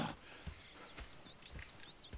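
Horse hooves clip-clop at a walking pace in Red Dead Redemption 2, quiet and fairly close, a few irregular steps over soft ambient background with no talk.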